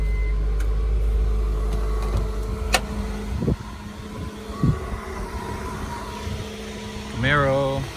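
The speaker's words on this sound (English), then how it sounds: "Cranked up kind of rough, too." A stolen Lexus RC350 engine idles after cranking, a low steady hum with uneven knocks and bumps running through it, close by, with a brief whining tone near the end.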